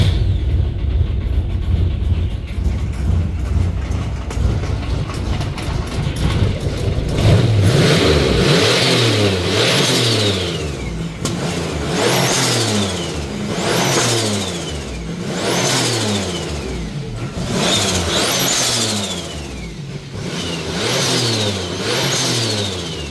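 A drift build car's engine cranks and catches, then revs repeatedly in loud, rhythmic bursts that rise and fall over a steady running idle, heard up close with no talking.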